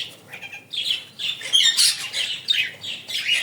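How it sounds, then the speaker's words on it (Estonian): Birds calling at a bird zoo in Tallinn, a series of bright chirps and squawks repeating irregularly at close range, fairly loud with no talk over them. "Lind räägib juttu."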